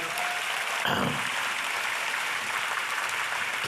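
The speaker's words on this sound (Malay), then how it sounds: "Jadi kita berikan tepukan atas komitmen itu" A crowd applauds steadily for a few seconds, a dense wash of clapping at moderate distance.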